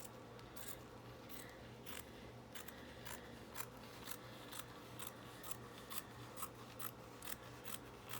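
Small scissors snipping steadily, about a dozen short crisp cuts in an even rhythm, close up with a quiet hum beneath and no talking.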